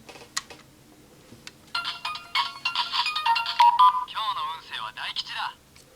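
Electronic chimes and melodic beeps from a DX Spider Phone toy from Kamen Rider Geats play its fortune-telling sound, a short burst followed by a longer tonal jingle with warbling effects, close and clear with no talking.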